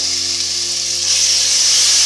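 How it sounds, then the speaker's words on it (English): Ginger garlic paste sizzles steadily in a hot pan with oil, a bright continuous frying hiss that swells slightly partway through, with a low stove hum beneath. "I'm going to add around 3 good spoons of ginger garlic paste."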